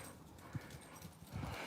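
Dogs playing fetch in a backyard garden, with faint soft thumps and scuffles of paws and bodies moving about on the ground in a short, quiet burst.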